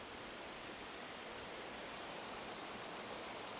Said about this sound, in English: this is one of the three waterfalls